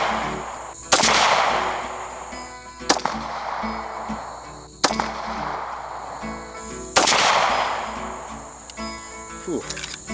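Four sharp pistol shots from a Stoeger Cougar 8040F fired at a 15-yard target, spaced about two seconds apart, each loud crack followed by a short ringing decay over a faint steady background hum.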